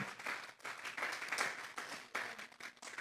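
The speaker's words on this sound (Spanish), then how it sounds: "Vamos a darle otro aplauso al Señor" A church congregation claps in a dense, steady wash of applause during a Sunday service, fairly quiet and even, swelling slightly in waves over a few seconds.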